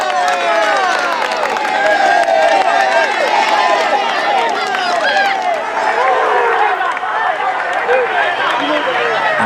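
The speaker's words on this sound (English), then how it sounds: "receiving the polite applause of the crowd here" Roadside spectators at a Tour de France mountain stage clap and cheer steadily as riders pass, a dense continuous wash of applause and crowd noise with voices mixed in, loud and close throughout.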